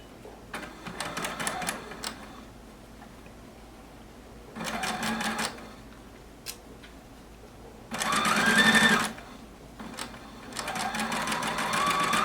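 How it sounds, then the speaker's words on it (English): Sewing machine stitching the joined binding ends of a quilt in several short, fast bursts with quiet pauses between them, close and fairly loud, no talking. "now we're going to go back over to the sewing machine and connect those two"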